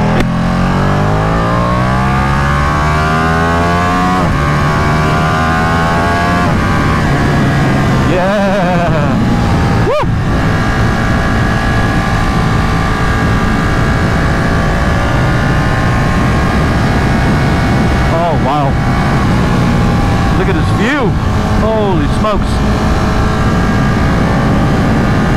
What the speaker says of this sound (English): I rev match this bike into gears. And it's a lot of fun, man. It sounds like a freaking animal when you rev match it into gears.